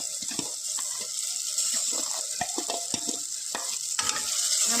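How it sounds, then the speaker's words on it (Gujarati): Soaked rice tipped into oil-separated frying masala in a pan and stirred, giving a steady wet sizzle with scraping spoon strokes and soft splashy clatter, close and continuous, no talking. "હવે એની અંદર આપણે આ મેં ભાત જે પલાળીને રાખ્યો હતો એ અંદર હવે ઉમેરીશું."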